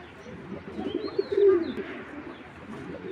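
Racing pigeons coo in a low, soft, rolling murmur that swells briefly in the middle, close by and continuous, with faint background noise.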